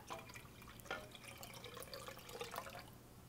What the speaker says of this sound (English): Now I'm just going to dilute my solution with some water.